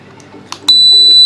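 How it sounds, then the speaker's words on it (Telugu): A homemade laser security alarm circuit switches on with a couple of clicks, then its buzzer sounds a loud, steady, high-pitched tone that holds without a break to the end. "ఎప్పుడైతే మనం సర్క్యూట్ స్విచ్ ఆన్ చేస్తామో అప్పుడు ఆటోమేటిక్గా బీప్ సౌండ్ అయితే వచ్చేది"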